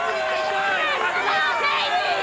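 RollerJam roller-derby arena crowd cheering for the California Quake, a loud, steady roar of many voices with shouts rising through it, close and continuous.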